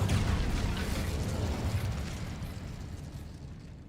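The Incendio fire spell bursts out in Hogwarts Legacy as a dense, loud whooshing roar of flame with crackle, strongest at first and slowly fading over a few seconds.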